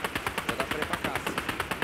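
Rapid automatic gunfire in Fortnite, a steady stream of sharp shots at a quick even rhythm, loud and close, with faint voices in the background.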